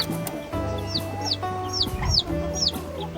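Chicks of chickens, turkeys and ducks peeping in a backyard free-range farm brooder, a series of high chirps repeating every half second over softer background clucking.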